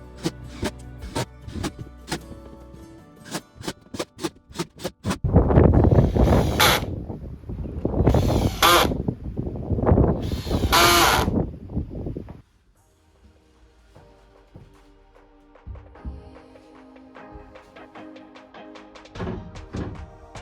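A power drill bores holes through a van floor into the wooden frame beneath. Several loud bursts of drilling separate short stretches of clicking and handling noises, followed by quieter knocks and rattles of work.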